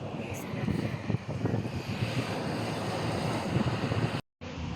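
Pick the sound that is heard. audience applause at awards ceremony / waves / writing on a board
waves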